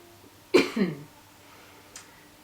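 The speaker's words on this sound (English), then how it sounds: "sorry for my cough." A single adult cough, close and fairly loud, bursts out in two quick barks and fades within half a second, followed by near silence and a faint tick.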